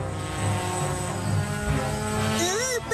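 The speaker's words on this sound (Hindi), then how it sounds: "बेटा, इन्हें ड्रोन कहते हैं।" A flying drone in an animated cartoon gives a steady, droning propeller buzz that runs throughout, with a higher whirring pitch bending near the end, heard under voices.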